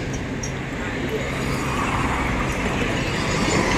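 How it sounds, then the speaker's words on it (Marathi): Train passing by at a distance, heard from a roadside food stop as a steady, swelling rumble that rises slightly toward the end, with people talking in the background. "तिकडे ट्रेन चालले तिकडून."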